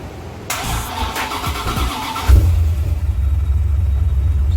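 Restored Lingenfelter car engine cranking with a whirring starter for a couple of seconds, then catching and settling into a loud, steady low idle rumble, up close with no talk.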